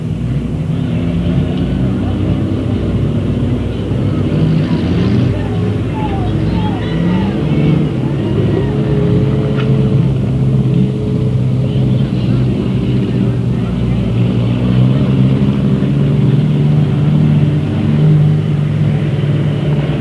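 Race cars circle the Delta Speedway track, their engines a continuous rumbling roar that carries on underneath an announcer talking almost the whole time.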